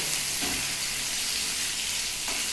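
Egg and potato frying in a pan with salt and turmeric, a steady broadband sizzle running throughout, close and even, with faint stirring scrapes and no talk.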